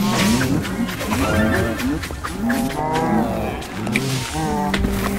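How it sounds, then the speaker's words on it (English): Cows in the game Minecraft Dungeons, a rapid series of loud, overlapping moos repeating over and over in quick succession, with faint talk in the background. "I love the part where they said it's mooing time and they mooed all over the place"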